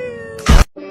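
A cat in a meme clip gives one short, loud, close meow that cuts off abruptly, with a steady tone before it and a muffled sound after.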